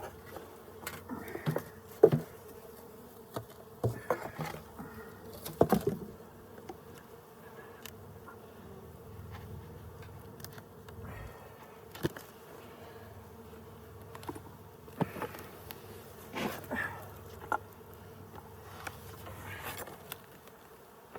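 Honeybees hum around an open backyard beehive in Colorado, a low steady drone of many insects close by with scattered louder buzzes as individual bees pass near, no voices.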